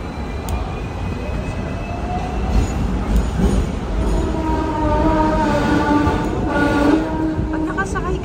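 A Hong Kong tram rolling through city streets, with a steady rumble of wheels on rails, a few metallic squeals and clanks, and people talking over the continuous ride noise.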